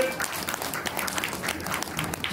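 An indoor audience at the Turtle Talk show at Tokyo DisneySea claps in a brief burst of steady, dense applause.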